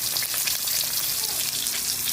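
Pork tocino fries in a pan, a steady, dense sizzle with fine crackling spatter that holds close and loud throughout.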